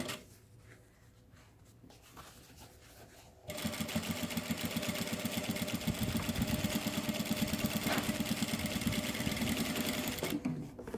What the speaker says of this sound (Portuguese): E eu vou fazer uma costurinha aqui, meio centímetro.